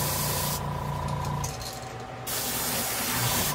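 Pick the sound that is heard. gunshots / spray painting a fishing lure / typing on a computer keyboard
spray painting a fishing lure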